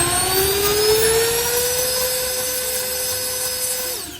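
A cordless handheld turbo blower fan runs steadily on its low setting, a loud close whine with a high tonal hum that holds even, then the pitch drops as it begins winding down at the end.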